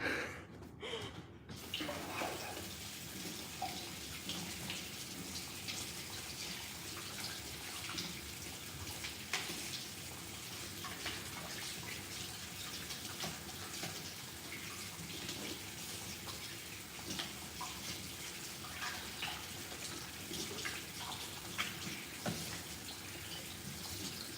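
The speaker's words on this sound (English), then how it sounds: "let me wash my hands" Hands washed under a running tap in a home kitchen during bread baking, a steady gushing stream of water that starts abruptly and runs continuously at close range with no talking.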